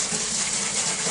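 Lukewarm water from a spray nozzle rinsing soap off an animal being washed for a show, a loud, close, continuous gushing hiss with no break and no talking.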